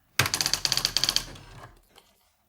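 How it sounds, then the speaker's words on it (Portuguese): An Olivetti PC typewriter mechanism prints as a parallel printer, a rapid burst of loud, close mechanical typebar strikes in quick rhythm, followed by a fading carriage whir and a few faint clicks. "o mecanismo real da máquina de escrever aparece como uma impressora paralela"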